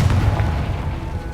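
Confringo fire spell blast in the video game Hogwarts Legacy, a loud, sustained booming low rumble filling the whole moment with no talk over it.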